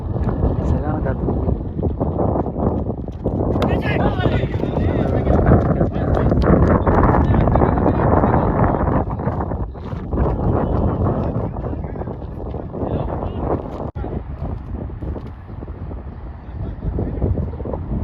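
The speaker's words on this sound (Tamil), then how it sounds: "காற்று வேறு நல்லா காற்று அடிக்குது." Strong wind buffets the microphone in a loud, continuous rumbling roar during an amateur cricket match in Qatar, with someone talking over it.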